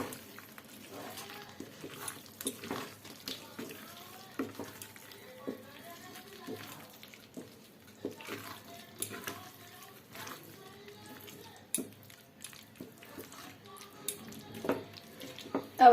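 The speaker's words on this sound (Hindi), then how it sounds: "अब हम इसमें डालेंगे पानी।" Water trickles and splashes into a cooking pot of vegetable curry with peas, an irregular wet pouring heard near, with someone talking over it at times.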